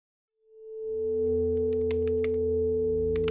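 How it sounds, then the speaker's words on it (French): A machine powering on with a startup chime, a sustained tone swelling in smoothly and holding steady, with a few faint clicks over it near the end. "Mise sous tension de la machine."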